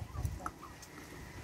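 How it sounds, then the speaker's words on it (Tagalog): Chickens feeding alongside a dog give a few faint, short clucks over low background rumble. "Mga manok, mga pusa."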